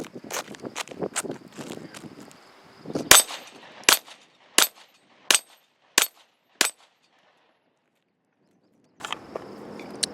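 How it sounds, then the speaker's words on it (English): Pistol shots from an HK VP9 ring out on a steel plate rack, first a quick cluster of shots and clanging impacts, then five evenly spaced sharp reports, loud and close outdoors, followed by silence. "Another shot on the plate rack."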